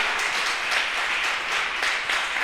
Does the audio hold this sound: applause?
yes